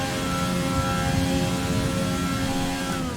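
A Formula 1 car's engine in the F1 2020 racing game holds a steady, loud, buzzing high-revving drone with layered harmonic whine, pulling away at the Belgian Grand Prix on a fresh engine, with no talk over it.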